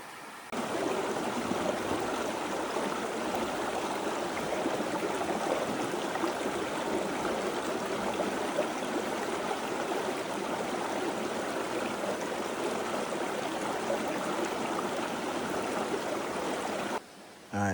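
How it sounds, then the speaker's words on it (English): A river in Pisgah National Forest flows with a steady, close, even rush of water noise that holds unchanged for over fifteen seconds, with no voices. "let's go chill by the river."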